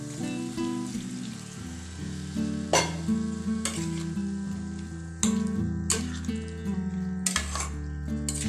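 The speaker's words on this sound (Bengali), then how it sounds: "আলু আর পোস্তকে যদি একসাথে বেশিক্ষণ ধরে একটু ভাজা হয় নেড়ে চেড়ে" Potatoes and poppy seeds sizzle loudly in a pan for Bengali egg aloo posto, with repeated scraping stirring strokes over a continuous fry and a low tonal background throughout.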